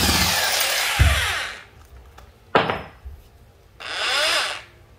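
Electric drill in wood-drilling mode, a secondhand 220V three-function rotary tool, whirring loudly in two bursts of about a second and a half each, separated by a sharp clack and a short spin-up.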